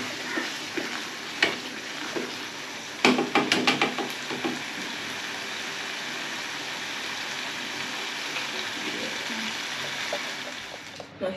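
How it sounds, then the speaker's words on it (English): Kunde (cowpea leaves) sizzling steadily in a pan, a continuous close frying hiss with a burst of stirring clatter early on. "So I'm just gonna let it cook for a while,"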